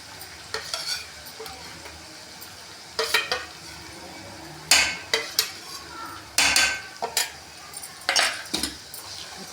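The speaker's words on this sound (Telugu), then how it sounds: "ఇప్పుడు కలపాలి" Amla pickle being stirred with oil in a pot, a spoon scraping and clinking against the metal in irregular bursts with brief pauses between strokes, close and fairly quiet, with no talking.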